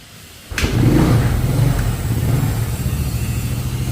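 A Yamaha Mio scooter, recently repaired after a leaking compression fault with a reversed piston, starts abruptly with a sharp crack and then revs and idles steadily, loud and close, with no talking.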